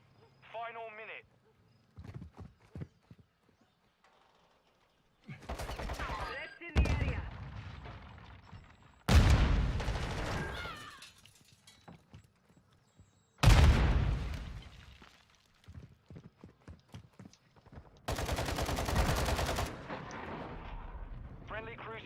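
Explosions and gunfire in a Call of Duty match, where a cruise missile strike hits in several heavy booming bursts separated by quieter gaps with scattered shots, and a voice speaks between the blasts.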